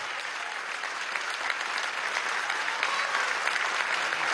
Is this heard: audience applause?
yes